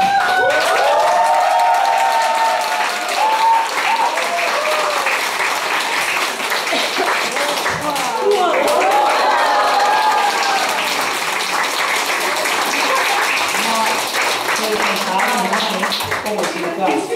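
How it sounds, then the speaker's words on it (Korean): Sustained audience applause at a kindergarten parent education lecture, dense and even clapping from a large crowd that carries on for well over fifteen seconds with little change in loudness. "이렇게 박수 소리 나야 되고"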